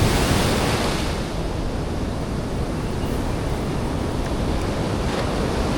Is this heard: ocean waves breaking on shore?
yes